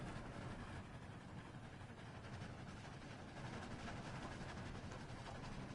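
A train ride in Roblox Dead Rails: a steady, quiet mechanical rumble with a faint rhythmic rattle rolls on without pause, no voices.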